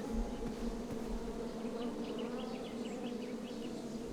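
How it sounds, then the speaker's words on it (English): Bees buzz around a nest in the video game King's Quest, a steady, soft, droning hum with faint fluttering wingbeats layered over a low background tone. "Someone had set the scene for a lovely evening. Yeah, right above a bee's nest."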